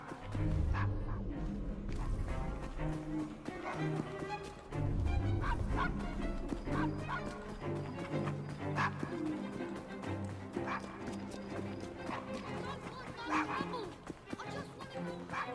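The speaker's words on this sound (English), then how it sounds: "Nice doggy." Dog barking in the Victorian London streets of Assassin's Creed Syndicate, repeated bow-wow barks and yips over a busy game soundscape with music and ambient bustle, with brief talk.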